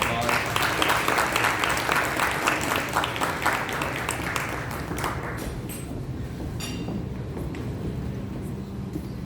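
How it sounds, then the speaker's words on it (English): Crowd applause at an interfaith Iftar dinner in Chicago, many hands clapping loudly for several seconds, then thinning into scattered individual claps and fading, with room murmur and faint voices underneath. "Give her a round of applause."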